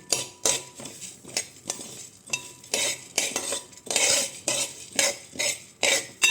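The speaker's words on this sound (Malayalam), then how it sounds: "ഒരു രണ്ട് മൂന്ന് മിനിറ്റ് ഒന്ന് ഇളക്കി കൊടുക്കണം കേട്ടോ അടി കരിയരുത് നല്ല ചൂടുള്ള ഉരുളിയാണ്" A utensil stirs lentil payasam in a hot bronze uruli, producing rhythmic scraping strokes roughly twice a second, each with a bright metallic rasp and clink, close and alone.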